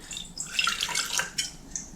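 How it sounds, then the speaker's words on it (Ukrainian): Vinegar, roughly 100 ml, poured into a clean glass jar while preparing jars for pickled cucumbers, giving a close, light splashing trickle for about two seconds, with faint kitchen clinks and no talking. "тепер наливаю сюди десь 100 мл оцту."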